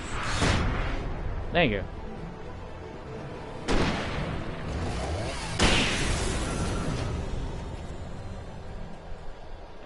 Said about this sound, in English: Throw the flashbang!